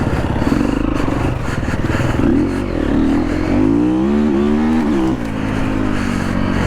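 A Triumph TF250E dirt bike rides hard through tight, technical Australian bush, its engine loud and close, revving and rising in pitch through the gears with a clattering drone and brief drops as it shifts.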